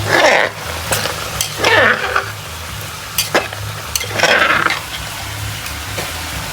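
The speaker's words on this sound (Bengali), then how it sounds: "খাসির মাংসটা রান্না করছে" Goat meat cooking in a pan, with bursts of hissing sizzle and scraping stirs recurring every second or so over a low steady hum, fairly loud and close.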